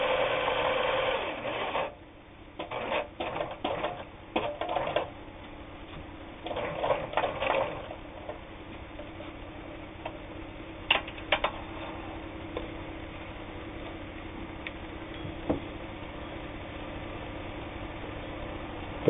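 A Japanese-made Kenmore 158.19802 sewing machine stitches a fish pattern with a rapid mechanical ticking and whirring, bursts of running broken by short pauses, then quieter clicks and taps.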